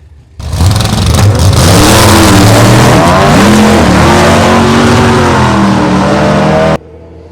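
A VW Golf 2.0 drag racing down the strip at Santa Pod, its engine roaring loud and close with rising, shifting gear pitches for most of the run before cutting off abruptly near the end.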